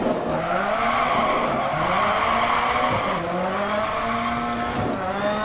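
A Subaru rally car in the DiRT Rally video game revs hard while its tires skid and scrabble on a rallycross course. The engine note rises and falls continuously, and no one speaks.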